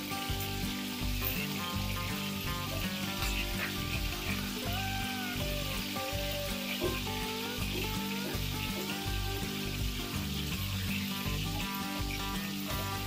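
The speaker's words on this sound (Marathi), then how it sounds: "सर्व शिमला मिरची आपण तेलामध्ये घातल्यानंतर हळूवारपणे हलवून घ्यायच्या" Stuffed capsicums frying in oil and gently stirred give a steady sizzle with soft turning sounds. There is a continuous background of music throughout.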